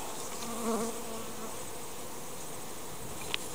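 Honeybees buzz in a continuous, fairly faint hum around an open beehive during an inspection, with a brief nearer buzz swelling early and a small sharp tap near the end.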